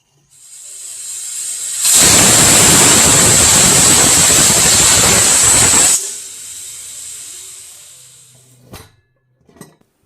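A pressure cooker vents on the stove while vangibath cooks, giving one loud sustained hiss of steam that cuts off abruptly, followed by a quieter fading hiss and a couple of soft clinks.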